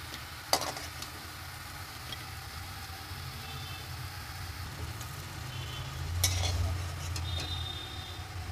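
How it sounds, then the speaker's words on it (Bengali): Chola dal boras frying in hot oil give a continuous close sizzle, broken by a few sharp clinks of a utensil against the pan and a louder swell of bubbling near the end. "দেখুন এইভাবে আমি প্রত্যেকটা বড়া ভেজে নেব।"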